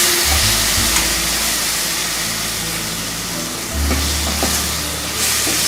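Steady, loud sizzling of curry leaves frying in hot oil for vatha kuzhambu, with a low hum running underneath and occasional crackles.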